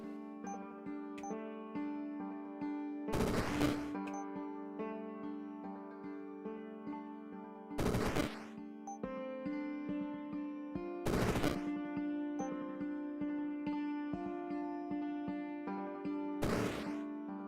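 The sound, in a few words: Chaos Barrage spell effect in video game Rift Wizard 3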